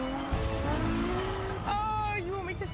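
Ferrari F12 Berlinetta V12 engine pulling hard under acceleration from the cabin, loud rising harmonic roar with a gear change partway, then climbing again, with a voice speaking over it.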